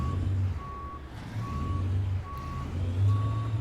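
A semi truck reverses in American Truck Simulator, its backup alarm giving a steady series of evenly spaced single beeps over a low idling diesel rumble.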